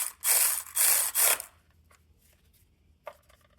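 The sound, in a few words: ratchet tightening bolt during 2012 Honda Civic alternator replacement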